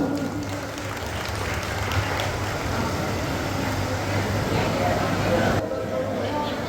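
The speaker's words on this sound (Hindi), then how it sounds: "इनका स्वागत कीजिए, दोनों हाथ से ताली बजाइए मेरे बंधु बनो।" Applause from a gathered audience at a community ceremony swearing in a new executive committee of a Sirvi Samaj development group, steady and continuous under a voice speaking over a loudspeaker, dropping off near the end.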